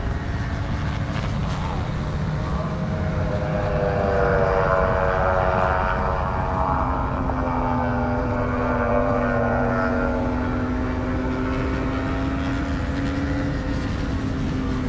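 Moto3 and 250/300 class racing motorcycles run nose to tail on a race track, their high-pitched engines whining and rising together in a steady, continuous drone with rushing wind noise throughout.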